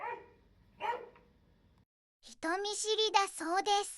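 A dog at the Yashio Onsen Shinsuikan hot-spring inn in Gunma lets out a quick run of high yips and barks, close and fairly loud, after a short spoken voice.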